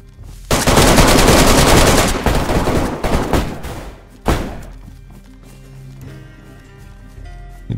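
Loud, sustained automatic gunfire in the DayZ video game, a dense rapid burst lasting a couple of seconds, then scattered heavy single shots before things quiet down.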